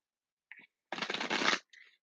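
Tarot cards riffle in a brief shuffle: a soft flick, then a dense, close papery riffle lasting about half a second, followed by a light tap of cards settling, in a quiet room.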